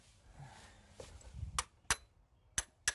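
Sharp metallic hammer strikes ring out during an oil change on a 1997 BMW Z3 1.9L, four distinct clanks spaced unevenly over quiet garage background, close and fairly loud against the low ambience.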